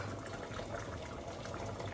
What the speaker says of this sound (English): I'm going to add some boiled water to it